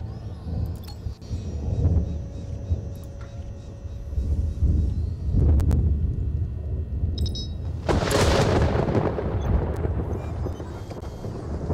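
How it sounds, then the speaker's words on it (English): A thunderstorm in Stranded: Alien Dawn rumbles over a steady backdrop of wind and noise, with loud broad swells of thunder rolling in and lingering near the middle and later on. "Nice thunderstorm."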